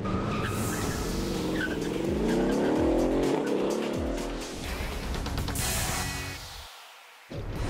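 A 2012 Mercedes-Benz CLS 63 AMG with a bi-turbo 5.5-litre V8 drives hard, engine note rising and falling loudly with tyre squeal, then fading as the car passes and pulls away.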